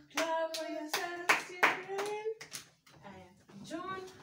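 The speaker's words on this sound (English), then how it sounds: "Clap for yourself." A young child at home claps, the sharp hand claps spaced among sung and spoken words from the child and an adult who talk over most of it.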